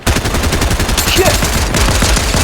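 Rapid automatic gunfire in Fortnite rattles continuously and loudly for the whole stretch, a steady stream of close shots with no pauses.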